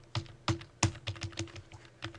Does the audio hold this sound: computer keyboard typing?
yes